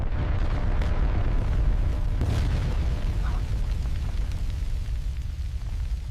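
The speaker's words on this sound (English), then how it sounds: "The explosion followed." A deep, sustained rumbling roar of a rocket interceptor explosion fills the whole stretch, loud and heavy with a low booming body that slowly tapers without fully fading.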